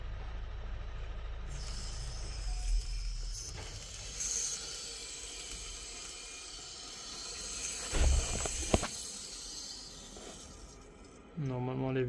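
Water surges back into an old galvanized steel cold-water column after the supply is reopened, a steady hiss and rush through the pipes with a few knocks and clanks; a voice speaks over it near the end.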